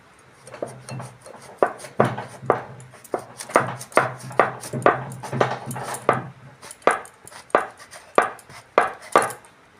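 A whole papaya is chopped with a knife on a board: a close, steady series of around twenty sharp thuds, quickening in the middle and slowing near the end, with no talk.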